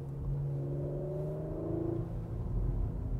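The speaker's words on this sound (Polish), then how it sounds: "Ciskam pedał gazu w podłogę." A Porsche Macan GTS accelerates at full throttle in normal mode, a steady in-cabin engine drone with rising harmonic tones that climb through the rev range, heard alone without talk.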